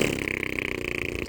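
A voice imitates a fart noise, a single sustained buzzy, sputtering blurt lasting just over a second, close and loud, ending abruptly.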